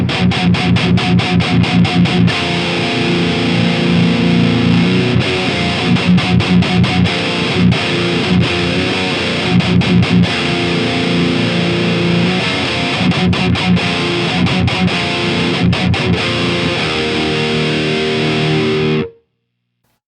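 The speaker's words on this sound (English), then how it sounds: "Oh, I forgot to do the pull shift on the bass. Let's hear that." High-gain electric guitar through a Mesa Boogie Mark IIC++ reissue amp with the bass pull shift engaged. Fast, tight palm-muted chugging riffs alternate with ringing chords, loud and steady until a sudden stop at the end.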